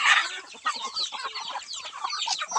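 Labuyo native chickens, a new generation kept in a coop in Palawan, cluck in quick, close, busy bursts, several birds overlapping in short choppy calls without any talk.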